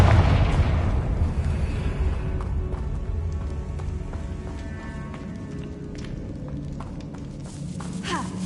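A Confringo blasting spell goes off in Hogwarts Legacy: a loud opening burst that decays into a long rumbling roar, with scattered crackling debris and thuds trailing behind.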